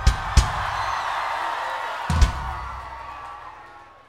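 A concert crowd at a live show in the UK roars and cheers for the opening band, a broad sustained din punctuated by a couple of sharp thumps before slowly fading.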